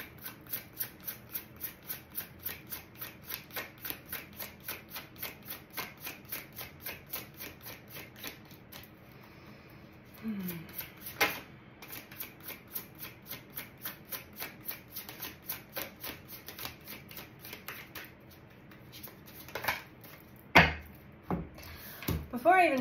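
Tarot cards being shuffled by hand in a fast, regular train of crisp riffling snaps that keeps going most of the time, with a short pause and a few louder flicks near the end, close up with a faint voice now and then.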